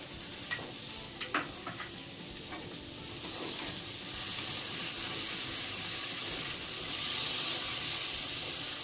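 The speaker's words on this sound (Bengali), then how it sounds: "এবার এর মধ্যে আমি টমেটোগুলো দিয়ে দিলাম।" Tomatoes go into a pan of frying capsicum and peas over a medium flame. A few clinks come first, then a loud steady sizzle and hiss that rises and keeps going.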